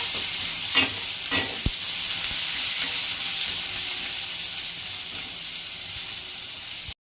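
Onions fry in a pan with a steady, hissing sizzle, broken by a few sharp clinks early on, then fading out abruptly.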